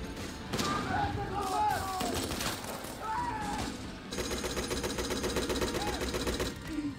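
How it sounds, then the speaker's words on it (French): An MP40 submachine gun fires during a war film battle scene, with rapid bursts of fast automatic fire over busy combat noise and shouting, and a long sustained volley in the second half. "la cadence de tir de cette MP40"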